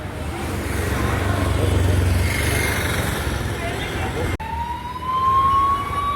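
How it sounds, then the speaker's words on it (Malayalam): An ambulance siren passes along the road beside a busy local village market in Mundankavu. Dense traffic and crowd noise run throughout, then a loud, steady wailing tone cuts in near the end and rises slightly over the last two seconds. "ആംബുലൻസുകളൊക്കെ വളരെ തിരക്കോടുകൂടി പൊയ്ക്കൊണ്ടിരിക്കുന്നു ഈ റോഡിൽ കൂടെ"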